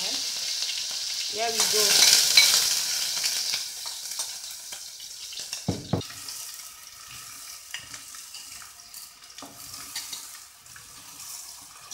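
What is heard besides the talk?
onions frying in hot oil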